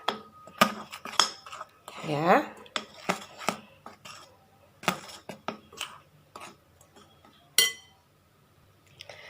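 A utensil stirs pizza dough with a little added salt in a bowl, giving irregular clinks and scrapes against the bowl, close and crisp, with a brief spoken word.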